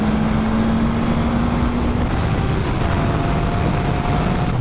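A 2018 Suzuki GSX S1000 F motorcycle engine holds a steady, loud, close drone, with a rising tonal whine through the first half over constant rushing noise, and no voices.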